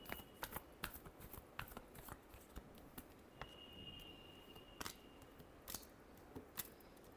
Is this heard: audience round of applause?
no